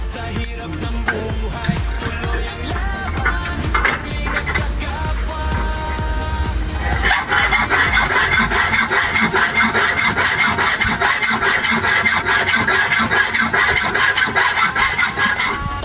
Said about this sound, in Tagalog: Maganda ang lagari ni guard sa bakal.